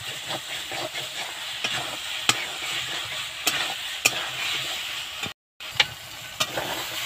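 Eggplant sautéing with fish curry in a hot pan: a constant close sizzle with repeated sharp scrapes and knocks of a stirring utensil, one brief silent break partway through, no talking.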